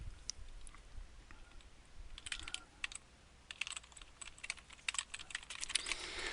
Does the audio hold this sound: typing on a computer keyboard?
yes